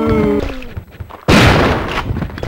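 A shotgun blast fired at an enemy in Resident Evil 3: Nemesis, a single loud close boom cutting in abruptly after a brief musical tone, trailing into a short rumbling decay.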